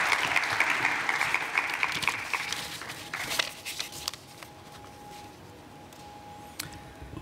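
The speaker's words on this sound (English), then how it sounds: "So please give Mr. Pisarello a round of applause." A conference audience applauds at the opening session of a city forum in Barcelona, a dense wash of clapping that fades after a few seconds into scattered claps and quiet room tone.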